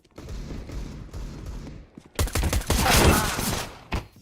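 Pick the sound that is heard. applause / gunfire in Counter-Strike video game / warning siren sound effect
gunfire in Counter-Strike video game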